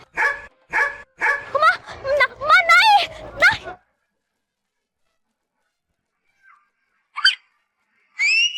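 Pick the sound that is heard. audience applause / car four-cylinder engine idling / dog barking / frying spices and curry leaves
dog barking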